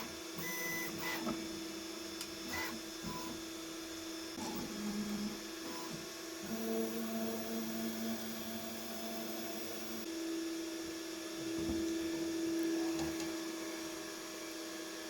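Snapmaker U1 3D printer running, a steady mechanical hum with shifting whirring motor tones and intermittent short clicks, fairly loud and continuous with no talking.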